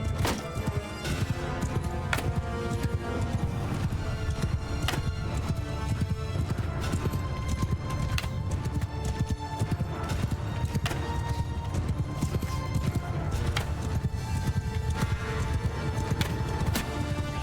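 Opposing horse armies clash in the video game Mount & Blade II: Bannerlord, with dense, continuous hoofbeats drumming close and loud, scattered whinnies and crashing impacts mixed into the galloping.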